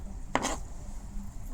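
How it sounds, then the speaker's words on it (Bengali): A single knife chop into capsicum on a cutting board, one brief close thud with a short clatter, in an otherwise quiet kitchen. "এখন ক্যাপসিকামটা কাটিমো"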